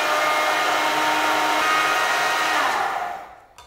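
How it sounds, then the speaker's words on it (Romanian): A small kitchen blender grinds dried rosemary for a homemade hair mask, whirring loudly and steadily before the motor winds down and cuts off near the end. "o să-l dăm puțin prin blenderul acesta"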